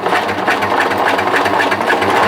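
An overlock serger runs steadily, stitching the shoulder seam of cotton yukata fabric with a four-thread seam in one pass, a continuous close mechanical whir with a fast rhythmic buzz and no talk.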